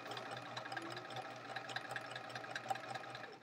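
A home sewing machine runs steadily through free-motion quilting on a chevron quilt, a continuous even whir with a faint rapid stitching rhythm, close and alone with no talk.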